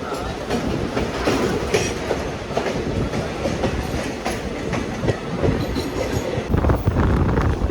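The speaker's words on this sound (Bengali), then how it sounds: "আমাদের ট্রেনটা এখন দারুণ একটা ইউটার্ন নিয়ে এগোচ্ছে" The Kolkata–Haldibari Superfast Express rolls along with a loud, continuous rumble and rhythmic clickety-clack of wheels over rail joints, heard from inside the moving train.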